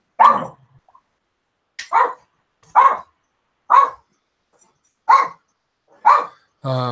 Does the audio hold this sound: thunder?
no